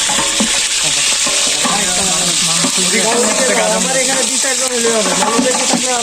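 Food is cooked and stirred in a big pot at an outdoor picnic: a loud, continuous frying sizzle with scraping stirs, and people talk throughout over the cooking.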